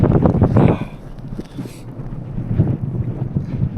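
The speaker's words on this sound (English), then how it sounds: "this wind is just still crazy. It's gusting though" Strong gusts of wind buffet the microphone while paddling, rising and falling in loud rumbling bursts.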